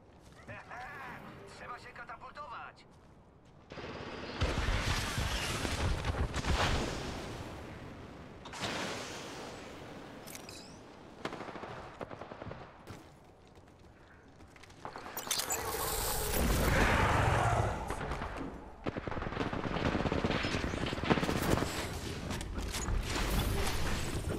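Gunfire from the battle royale game Apex Legends, bursts of shots and booms coming in clusters over a busy mix, with players talking over much of it.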